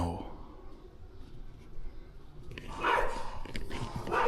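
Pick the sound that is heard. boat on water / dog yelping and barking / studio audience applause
dog yelping and barking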